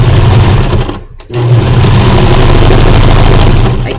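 A sewing machine double stitching a suit, running loud and steady with a continuous motor drone and rapid needle rhythm, briefly stopping for a moment before resuming.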